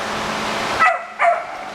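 At an animal shelter around closing time, a dog gives two sharp, close barks with a slight yip to them, following a stretch of steady background noise.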